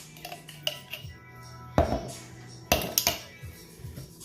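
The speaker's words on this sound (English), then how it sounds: "And give that a quick stir" A spoon scrapes and clinks against a bowl while aquafaba mayo is stirred into vegan tuna salad, several sharp knocks and clatters spaced irregularly between soft mixing sounds, close and quiet with no talking.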